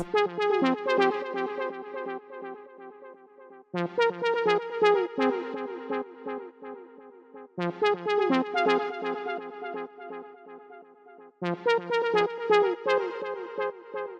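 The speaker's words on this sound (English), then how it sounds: "this little lead pluck little brass thing, which sounds like this" A bright synth lead with plucky, brassy tone plays a melodic phrase that repeats four times, each bar restarting with a sharp attack and decaying notes.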